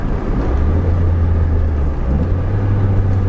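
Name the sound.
Nissan Pulsar GTI-R engine downshifting while driving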